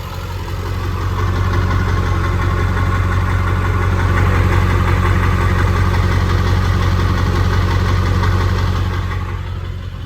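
A 2001 Ford Excursion Limited with the 7.3L Powerstroke diesel V8 idles steadily from behind the truck, a loud, even, low rumble with a fine mechanical clatter that holds constant for the whole stretch.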